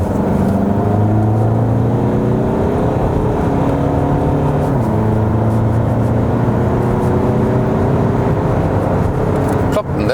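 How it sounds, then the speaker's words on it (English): Skoda Superb Combi Scout diesel accelerating hard from 60 to 130 km/h, heard from inside as a steady engine drone with rising harmonic sweeps through gear changes, loud and continuous under a talking voice. "we can drop down to about 60 and then accelerate it out"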